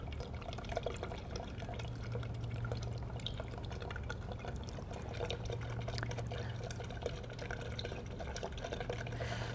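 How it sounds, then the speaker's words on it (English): Water poured into a model aquifer well soaks into sand, giving a faint, steady trickle with small drips under a low hum, and no voices. "Do you see how the sand is now getting wet as we pour the waters inside the well?"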